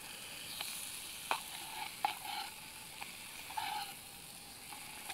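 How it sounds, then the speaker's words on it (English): Bacon sizzles steadily in a small camping pan, a soft continuous crackle with a few brief louder pops and scrapes, heard without any talking. "So I think the bacon is actually ready for turning now."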